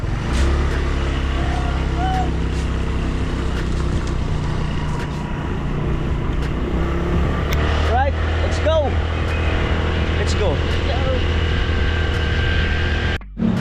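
A motorcycle engine hums steadily as two riders travel along, with traffic and passing vehicles around them and people talking over the ride.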